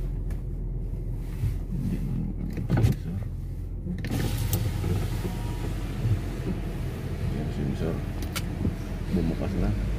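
A car rolls into a basement parking garage, its low engine rumble steady and close, with a whirring power-window sound at the start and people talking inside the car.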